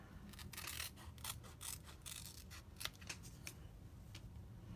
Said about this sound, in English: Let me grab my scissors.